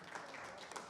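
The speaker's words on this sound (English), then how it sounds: "Can we give our panelists a round of applause for their valuable insight?" Audience applauding panelists at a technology day event, a brief burst of dense clapping, moderately loud and steady throughout.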